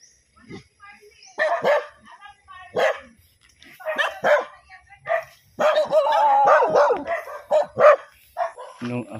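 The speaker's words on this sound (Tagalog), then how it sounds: "Ay, kadaming aso." Several dogs bark in short, irregular bursts with some yips and whimpers, fairly close and loud, with gaps of quiet between volleys.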